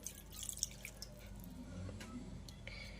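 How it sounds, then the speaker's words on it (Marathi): Water trickles and drips into a mixer jar, with soft splashing and a few sharp drip sounds close by, no talking. "त्याच मिक्सरच्या भांड्यामध्ये मी पाणी घालून"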